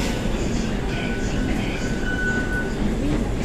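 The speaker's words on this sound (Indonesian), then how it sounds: "Ini sekarang saya mau naik MRT." An MRT metro train at a busy station in Taiwan during rush hour gives a steady, close rumble with a faint thin wheel squeal drifting through, over a continuous crowded platform hum.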